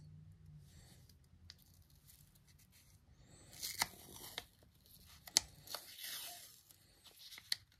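Blue painter's tape is torn off the roll in a few sharp rips, close and quiet, to build the side walls of a silicone tire mold.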